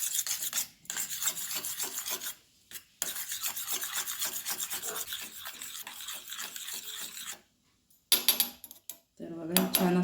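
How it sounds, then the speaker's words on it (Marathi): A spoon scrapes and beats rapidly against a bowl as egg batter with chili powder, salt and coriander is mixed, the rhythmic rasping close and continuous with brief pauses. "याला आता चांगलं मिक्स करून घेऊया."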